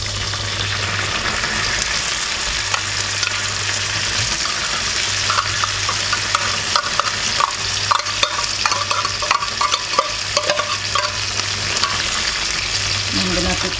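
Tuna sizzling and frying in a pan for pasta while being stirred, a steady loud crackling hiss throughout with scraping and clinking from the stirring utensil growing busier toward the end.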